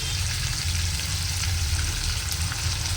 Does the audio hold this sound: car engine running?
no